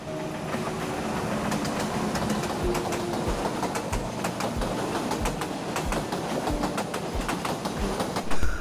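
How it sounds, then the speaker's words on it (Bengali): A train rolls past steadily on the rail line through Lawachara forest near Sreemangal, its wheels clacking rhythmically over the rails with a continuous rumbling roar. "আর একটু আগে দেখতে পেলেন একটা ট্রেন যাচ্ছে"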